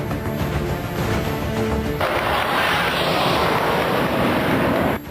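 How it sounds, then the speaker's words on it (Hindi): Sukhoi Su-30 fighter jet performing an aerial display over the Agra-Lucknow Expressway airstrip, a loud, continuous roaring rush that swells and stays intense to the end, with no talk. "सबसे आखिर में सुखोई विमान आसमानी करतब दिखाते नजर आए।"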